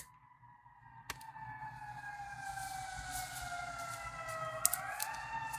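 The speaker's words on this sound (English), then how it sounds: "Hearing sirens and ambulances in the background." Emergency vehicle sirens wail steadily in the background, their long gliding tones holding through the whole stretch at a moderate distance with no talk, and a brief sharp knock near the start.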